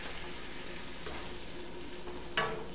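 Dorado fish fillet sizzling in a hot frying pan, a steady, soft frying hiss with a brief clatter of stirring near the end.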